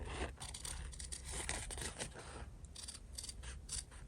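Scissors snip through fabric scraps being cut out for a sewn gift, a quick series of close, crisp cuts and slides of the blades repeating steadily with no talking.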